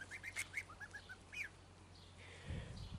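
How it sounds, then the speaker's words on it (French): Geese give a run of short, faint, rising calls in quick succession over a quiet outdoor background, followed by a low rustle or shuffle near the end. "regardez les oies, elles me voient, elles vont venir"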